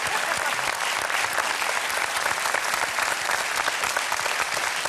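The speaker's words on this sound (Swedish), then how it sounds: "Stor applåd." Studio audience on a TV bingo show bursts into sustained, dense applause, loud and even throughout with no speech over it.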